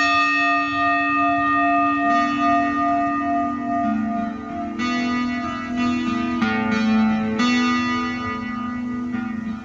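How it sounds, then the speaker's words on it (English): A meditation bell rings out loud and clear, a sustained resonant metallic tone with rich overtones that hangs and slowly decays, struck again partway through, with no voices. "when the bell rings,"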